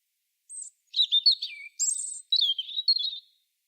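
Robin singing alone, a series of thin, high warbling and twittering phrases separated by short pauses, clear and fairly close with no other sounds.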